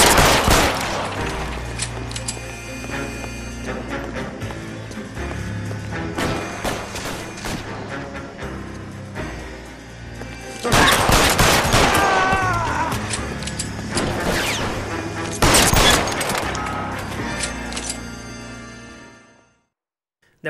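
Shootout gunfire in the video game L.A. Noire: dense, loud volleys of rapid shots and bursts crash through most of the stretch, with heavier clusters partway through, before cutting to silence at the end.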